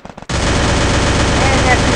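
Dense automatic gunfire from the Free Fire video game bursts in loudly after a couple of brief shots, then continues as a sustained, saturated barrage for the rest of the moment.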